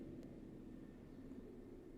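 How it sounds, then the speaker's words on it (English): A helicopter flies low overhead, heard as a faint, steady, broad rumble that fills the whole stretch with no other sounds over it. "Sorry about that helicopter flying over me."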